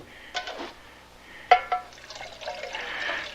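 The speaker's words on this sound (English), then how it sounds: "I'll get you another drink of water on that one." Water poured into a drinking vessel as a radio drama effect for an old man in a desert by a barrel cactus, a couple of sharp knocks followed by a soft, steady trickle of liquid.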